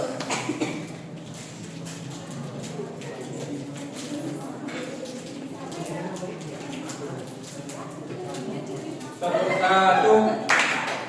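Children in a classroom clap together in a counting exercise, a dense burst of near, loud hand claps near the end after a stretch of quieter room noise and talk.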